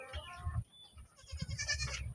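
Goats bleat close by, several wavering calls in quick succession, separated by a brief pause, with light background noise.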